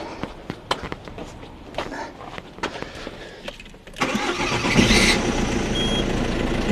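A Peugeot engine, just repaired with a new turbo oil feed, sump and oil filter housing, starts on the first try. Scattered clicks and taps come first, then the engine catches at once and settles into a steady, close idle.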